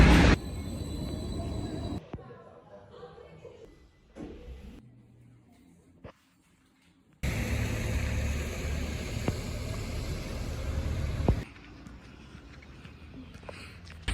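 Riding inside a moving tram in Samsun: a steady rumble and rolling hum that drops to quiet stops, then surges again as the car gets moving.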